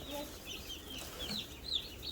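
Small young chicks of a straight-run homestead flock cheep and cluck softly in a quiet, continuous chorus with faint high peeps scattered through, no talking.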